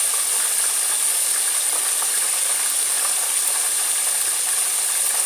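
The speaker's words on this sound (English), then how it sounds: "I just want to fry it to get it brown" Pork steak fries in a pan for country smothered pork steak, giving a dense, steady sizzling hiss that stays loud and even from start to finish with no talk.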